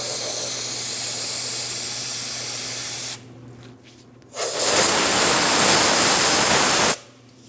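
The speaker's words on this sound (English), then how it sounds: "You can also use some compressed air." Compressed air blasting debris out of a fuel tank filler neck joint on a 2008-2016 Chrysler Town & Country 3.8L V6: a loud, close, steady jet hiss in two long bursts separated by a brief pause.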